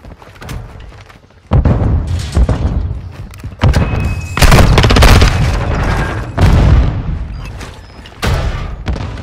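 Bomb explosions and heavy blasts in the video game Modern Warfare 2 during a search-and-destroy round, a loud run of booming thuds and rumbling impacts overlapping with scattered gunfire, close and dense throughout.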